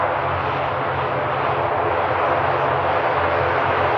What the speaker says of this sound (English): we did just miss the Emerald Airlines operated aircraft. Just touching down from Belfast.